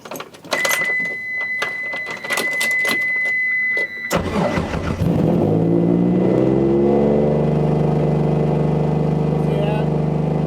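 A car engine with a small vacuum leak cranks with rapid clicking, catches, and settles into a loud, steady high idle close by, while someone talks briefly at the start.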